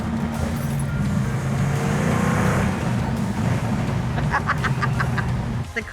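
A restored Plymouth Road Runner accelerates hard, its engine a steady loud roar with a low rumble, followed by faint short honking or squeaking sounds near the end.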